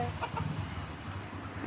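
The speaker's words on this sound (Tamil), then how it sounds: "அது அம்மா கோழி, இது அப்பா கோழி." A hen and a rooster clucking close by, low throaty calls in a steady murmur for under two seconds, with no talking.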